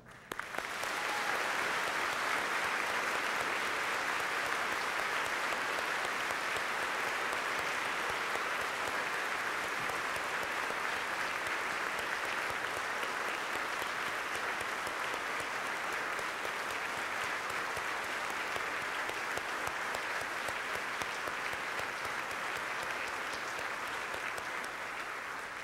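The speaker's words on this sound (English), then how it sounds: "let's get that clap of warmth through that door" A large church congregation claps steadily and loudly for the whole stretch, a dense, sustained wash of applause with no voices standing out.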